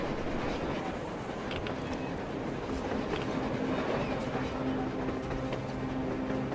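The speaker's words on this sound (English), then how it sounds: "A train! A damn train on the surface!" A train in a video game rumbles past at a distance, its steady rolling clatter faint and continuous.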